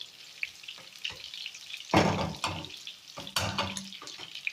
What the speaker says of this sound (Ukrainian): Все разом пересмажую. Пахне, а пахне все, а пахне цибулька, чесничок